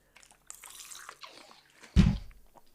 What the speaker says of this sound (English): You're just hearing my water bottle slam down on the table.